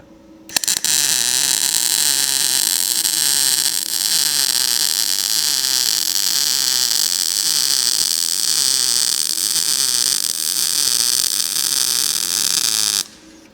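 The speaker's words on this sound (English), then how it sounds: "ready for the weld here, Jebediah?" A cheap PUWU Amazon welder lays a weld, giving a continuous loud buzzing hiss with a faint pulsing undertone that starts abruptly, holds steady for about twelve seconds, then cuts off.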